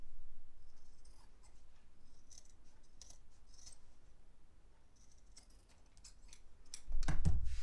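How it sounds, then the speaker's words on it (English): Paper scissors snip through a zip while a notebook pouch is sewn, giving a few faint, scattered clicks and crisp cuts over quiet room tone, ending in a louder burst of handling noise. "we're going to cut straight through our zip to get rid of the extra length"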